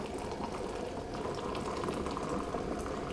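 An electric kettle brings water to a steady rolling boil, a dense continuous bubbling and hissing that stays even and close throughout, with no voices.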